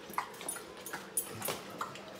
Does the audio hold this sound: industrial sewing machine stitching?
no